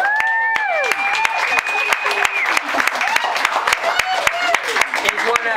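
A concert audience breaks into rousing applause for the singers at the end of a show, dense clapping mixed with cheers and voices, loud and continuous through the whole stretch.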